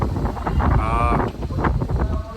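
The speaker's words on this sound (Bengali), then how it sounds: "এই দেখো অলরেডি হাওয়া শুরু হয়ে গেছে" Gusty wind before rain on a Durga Puja night in Bengal rushes and buffets the microphone in a steady broadband roar, with people talking faintly underneath.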